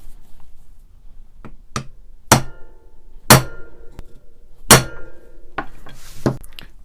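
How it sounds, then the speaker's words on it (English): Metal hammer blows on a screwdriver being used to free a rusted screw on a vintage Dowidat 3293 3/4-inch ratchet, giving several sharp, loud clanging strikes at uneven intervals, with quieter taps in between and no talk. "all we need to do is just hit this a couple of times, and that will hopefully loosen the rust"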